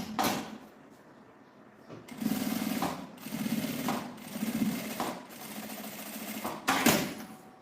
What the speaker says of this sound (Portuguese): eu posso passar a costura aqui nesse viés do bolso e em volta na telinha